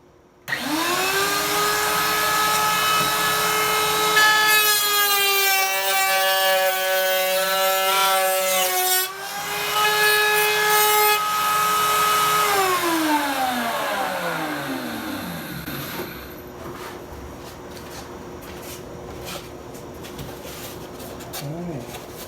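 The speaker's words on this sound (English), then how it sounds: "I'm going to use my flush cut router here, clean up this edge" A flush cut router trims the edge of a wooden guitar body. Its loud, high motor whine holds steady for about twelve seconds with a brief dip partway, then spins down and fades into quieter workshop noise.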